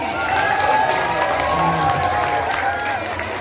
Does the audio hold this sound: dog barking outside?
no